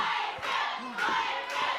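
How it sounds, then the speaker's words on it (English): A wrestling crowd cheers and yells for Clayton at a MadBash Wrestling event. The noise is a dense, roaring wall of voices with a few sharper whoops and claps. "Can we just listen to the crowd so behind Clayton?"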